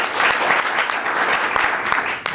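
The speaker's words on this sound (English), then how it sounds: "Clap, clap." A crowd at a corporate marketing event applauds, a brief, loud, full burst of many people clapping at once that holds steady before tapering at the very end.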